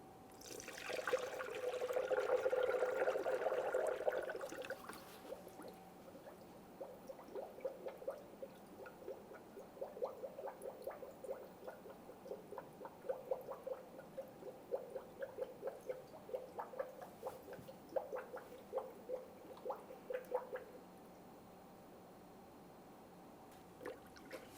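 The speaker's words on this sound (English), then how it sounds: "you want to use the manufacturer-specific coolant to top off the coolant" Coolant pours steadily into the cooling system of a 2008-2017 Mitsubishi Lancer for about four seconds, then gives way to a long run of soft, irregular drips and trickles, close by and fairly quiet.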